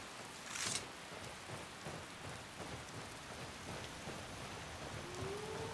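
Steady rain in the video game Skyrim, a constant soft hiss of falling drops with a faint deeper rumble underneath, running alone without speech.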